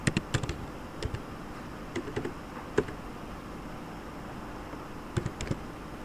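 Keys on a computer keyboard clack in short bursts of light taps with pauses between, close and fairly quiet against a faint background hiss, as a web address is typed.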